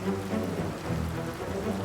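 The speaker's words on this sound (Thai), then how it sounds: "ดาวอะไรมีฝนตกด้วย" Rain falls on an alien planet in Star Wars Jedi Fallen Order, a steady dense hiss of downpour with a low rumbling undertone, continuous and fairly loud.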